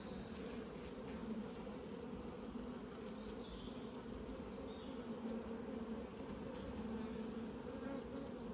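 Buckfast honey bees hum steadily around their queen in a dense, continuous close-up drone that holds level throughout without a break.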